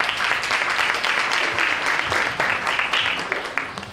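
Steady applause from an audience welcoming the author at a book presentation, dense and sustained with a slight fade near the end.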